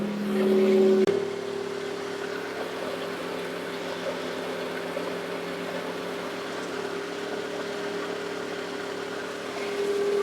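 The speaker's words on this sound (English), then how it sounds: "And she's idling." A carbureted car engine with leaking carburetors idles steadily up close with a constant low hum, after a brief louder rev at the start.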